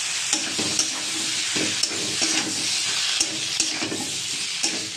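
Chunks of taro and potato fry in a well-cooked spice paste, a steady close sizzle broken by repeated scraping stirs of a spoon against the pan.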